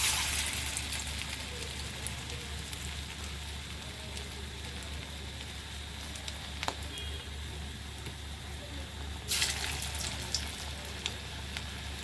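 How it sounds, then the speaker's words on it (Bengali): Prawn pakora batter spluttering in hot mustard oil, a steady soft sizzle with scattered crackles and a brief louder burst of bubbling near the end, no voices. "এবার আমি একে একে চিংড়ি মাছের পকোড়ার জন্য ব্যাটারটা যেটা রেডি করেছিলাম সেটা তেলের মধ্যে দিয়ে দেব"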